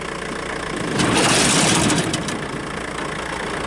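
A tractor runs steadily with its PTO engaged, driving a 5 ft brush hog fitted with two new blades. The loud mechanical roar swells for about a second midway, then settles back to a constant running drone, with no talking.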